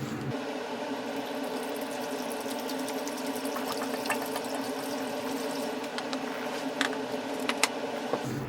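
Water runs steadily through newly installed bathroom plumbing during a remodel leak test, a continuous close rushing flow with a faint pump-like hum underneath and a few small clicks near the end, with no voices.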